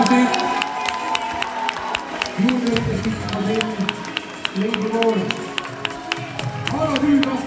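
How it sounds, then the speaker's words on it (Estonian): Audience applause and cheering at a bodybuilding and fitness championship in Estonia, a steady patter of many hands with scattered whoops, under and between bursts of talk. "Teeme suure aplausi."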